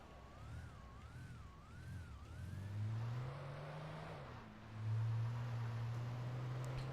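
A video game car engine hums and revs steadily, with pitch shifting as it accelerates, alongside a wavering electronic tone early on; quiet and continuous.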